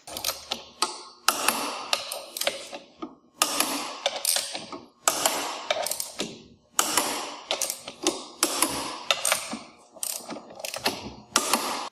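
Track N Go track drives being tightened to 80 foot-pounds of torque with a ratchet wrench, giving bursts of rapid mechanical clicking and ratcheting in repeated pulls, close and loud, with short pauses between runs.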